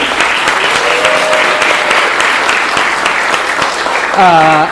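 Dense, loud audience applause at a cocktail event in a gastrolounge, sustained throughout and heard close, with a voice breaking in near the end.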